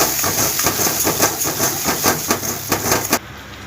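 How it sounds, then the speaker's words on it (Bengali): Spice paste frying in hot oil in a pan for a pointed gourd (potol) curry: a steady, close sizzle with crackling pops that cuts off abruptly near the end. "পেস্টটা দিয়ে দিলাম তেলের মধ্যে দিয়ে এবার ভালোভাবে কষিয়ে নেব"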